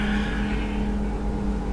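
A tour bus engine drones steadily while overtaking a tall double-decker bus on the road, a continuous low rumble with a faint tonal hum, close and fairly loud with no talk.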